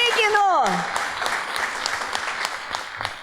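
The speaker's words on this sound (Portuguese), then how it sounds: "aplauda, irmãos" A church congregation at a service in Porto Velho claps together: a sung or drawn-out voice gliding down opens, then steady moderate applause continues under the reverberant space.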